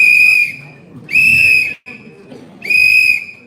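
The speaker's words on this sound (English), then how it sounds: "Where's my whistle?" Three loud, sharp whistle blasts at a Greenville County Republican Party special meeting, each held about half a second, with crowd murmur and chatter underneath between them.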